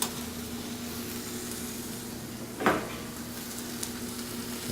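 Asparagus sautés in a pan with a soft, constant sizzle, broken once by a brief stir or scrape near the middle.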